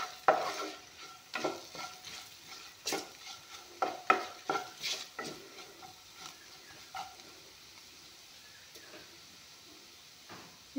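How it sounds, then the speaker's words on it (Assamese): Cumin and chili powder are stirred and fried in a pan, giving soft sizzling broken by repeated scraping and clinking spoon strokes, close and irregular, with no talking. "এতিয়া অলপমান ভাজি ল'ম।"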